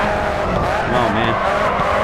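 Car drifting with tyre squeal in the racing video game Grid 2, a steady loud engine roar with a wavering screech from the tyres running through the whole stretch, with a voice talking over it.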